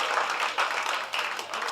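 An audience at a speech by Parveen Sultana claps together in a short burst of dense applause. The sound is fairly close and swells and dips over under two seconds.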